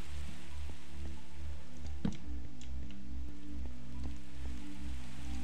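Steady rain falls in the Minecraft Modern Skyblock video game, a soft continuous hiss with faint drip ticks running under looping game music, with no speech.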